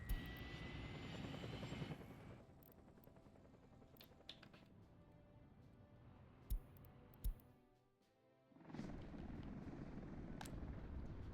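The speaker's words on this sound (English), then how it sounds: "Also, I was repairing this helicopter," A helicopter in a city-building video game set on an island gives a faint, steady rotor and engine drone that thins out midway, dips almost to silence, then swells back, with a few sharp ticks.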